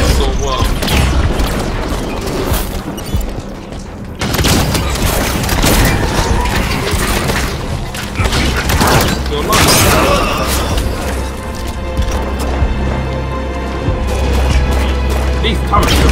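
Turret gunfire in Halo 5: Guardians campaign combat, loud repeated booming shots and crashing impacts over a dense battle din, with someone talking over parts of it.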